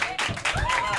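Audience applause at a French comedy show: a short burst of crowd clapping mixed with voices and a brief whoop, with steady, fairly loud broadband noise throughout.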